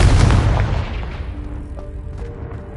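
A Confringo spell blast in the Hogwarts video game: one loud, booming explosion at the start that decays into a rumbling tail with faint ringing tones, no talk.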